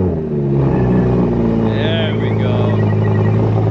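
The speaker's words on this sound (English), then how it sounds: "let's go ahead and start up this R8" An Audi R8 is started with its basic key, and the engine catches and revs up with a loud, full growl that carries on steadily as people talk over it.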